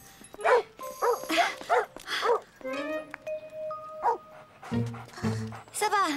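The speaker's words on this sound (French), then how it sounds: "Ils sont à vous, ces deux chiens?" Two cartoon dogs being walked bark and yip repeatedly at close range, with whimpering and jingling mixed in, while people talk over them in French.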